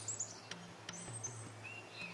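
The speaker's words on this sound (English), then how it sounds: "mangroves, are key nesting grounds for herons, kingfishers, and migratory birds from as far as Siberia." Birds calling in a mangrove forest, thin high chirps and whistles scattered through a quiet stretch over a steady low hum, faint and fairly distant.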